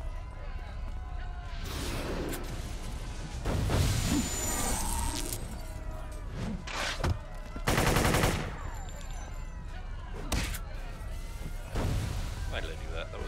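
Video game gunfire in City of Heroes, rapid bursts of shots and booming blasts layered over busy game noise, fairly loud throughout, with a voice talking over it.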